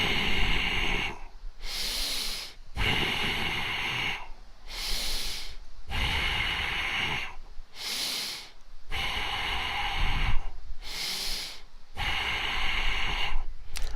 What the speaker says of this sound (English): That's a sample of what the dynamic tension breathing exercises that we will be doing.